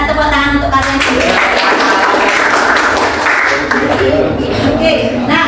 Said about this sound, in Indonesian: tepuk tangan untuk kalian juga